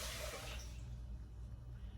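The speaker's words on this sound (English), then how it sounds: "I'm going to put in 2 cups of water" Two cups of water poured over a cup of rice in a rice cooker pot: a bright, splashy pour for under a second that cuts off, leaving a low steady hum beneath.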